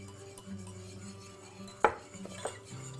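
A spoon stirs Parmesan cheese into sauce in a pot, giving two sharp metallic clinks against the rim over a faint, quiet kitchen background.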